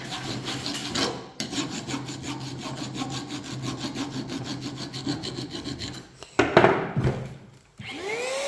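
Metal file rasping along aluminium edges in fast, even back-and-forth strokes, close and steady for several seconds, followed by a few clunks of handling near the end.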